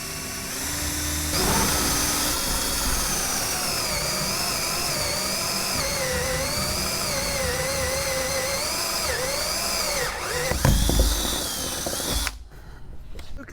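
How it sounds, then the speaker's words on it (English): Power drill boring a hole for a bulkhead fitting in a tank, a loud continuous whining drone that rises and wavers in pitch for about ten seconds, then a brief louder grinding burst before stopping. "So I'm going to drill"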